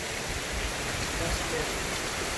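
Heavy hail and rain pour onto a house in a mountain village in northwest Vietnam, a dense, steady roar of water that continues unbroken throughout.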